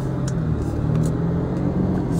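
Continuous low hum and road rumble of a car being driven, heard from inside the cabin at a steady level, with a few faint clicks.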